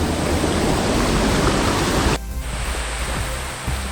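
Loud rushing water at a creek crossing on the Goldfield Track in tropical north Queensland fills the clip, a broad steady flow that drops to a softer babble partway through, close by.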